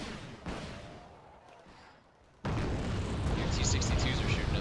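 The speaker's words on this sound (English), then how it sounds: "Your T-62s are shooting at something." T-62 tanks fire in the Wargame: Red Dragon video game, with a booming shot and rumbling blast, then a louder sustained roar of explosions and battle noise continuing to the end.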